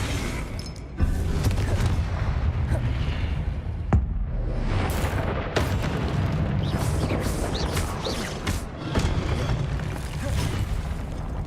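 Explosive Confringo spells from Hogwarts Legacy blast apart statues, heavy booms and crackling bursts with shattering debris, repeated in quick succession over a loud, continuous rumble.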